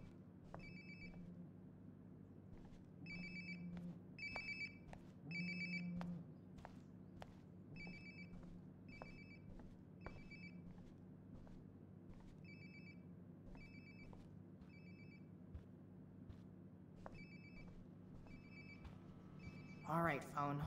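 Phone ringing in Life is Strange: Before the Storm, repeating bursts of electronic trills in a steady pattern over low room hum, with faint footsteps moving about.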